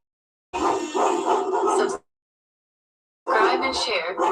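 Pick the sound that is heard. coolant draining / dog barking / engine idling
dog barking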